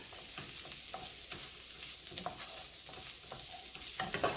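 Chicken browning in a pan for couscous and chicken, a soft, continuous sizzle with scattered crackles and light scrapes of stirring, fairly quiet and with no voices.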